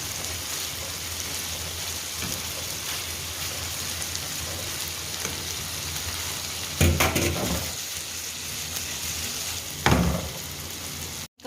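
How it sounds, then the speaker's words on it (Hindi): Minced meat kebabs fry in hot oil in a pan, giving a steady close sizzle and crackle that runs throughout, with two brief louder bursts of spattering near the end. "ऑयल में मैंने इनको भून भी लिया है"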